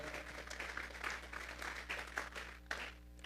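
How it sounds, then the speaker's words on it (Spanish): Church congregation clapping together as an offering of praise, a faint, continuous patter of many hands over a low steady hum, with scattered louder claps and murmuring voices. "Vamos a darle una ofrenda de palmas a Dios en esta hora."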